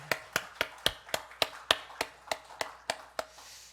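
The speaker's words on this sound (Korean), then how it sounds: "먼저 하나님 앞에 영광의 박수를 좀 드립니다." A church congregation at an anniversary thanksgiving service claps in unison, about a dozen sharp, evenly spaced claps in a steady rhythm, fairly quiet and without talk.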